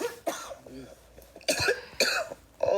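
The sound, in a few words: girl coughing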